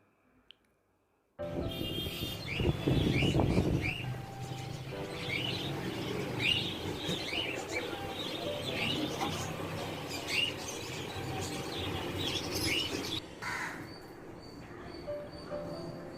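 Many cockatiels on a balcony chirp and tweet continuously in a busy, close chorus, with a brief low rumble near the start.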